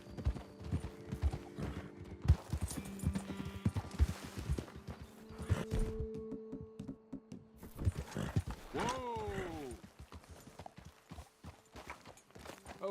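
Horse hooves clip-clop at a walking pace in Red Dead Redemption 2, with a brief whinny partway through and faint ambient creaks.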